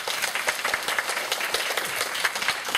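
Students in a university sociology lecture hall applaud a group that has just finished presenting. The clapping is brisk, dense and steady for a few seconds, with many hands close by.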